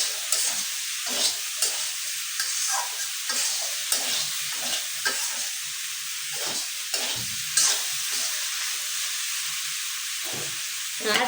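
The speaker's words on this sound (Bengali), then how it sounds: "তো এখন এই যে মশলার সাথে ভালো করে মিশিয়ে দিব।" Okra frying in a pan with spices while being stirred, giving a steady bright sizzle with scraping stir strokes at close range and no talk.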